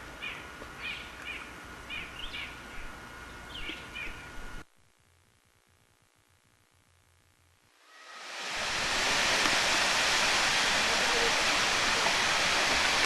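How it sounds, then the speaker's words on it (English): Fall Creek Falls, a 256-foot plunge waterfall in a forested gorge, roars as a loud, steady broadband rush that swells in after a quiet stretch, while birds chirp softly before it. "This 256-foot high falls is the highest in eastern America."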